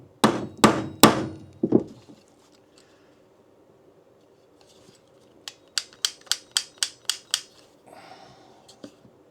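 Small hammer tapping while fitting a Walther match trigger dynamic: a few sharp knocks, a pause, then a quick run of about seven light metallic taps, close and alone in a quiet room.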